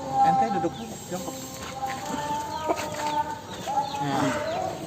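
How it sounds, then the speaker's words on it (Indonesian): A sick chicken with a respiratory illness snores with rough, rattly breaths, alongside clucking fowl nearby and faint talk in the background. "Tuh, bisa didengar nggak? Ngorok ayamnya."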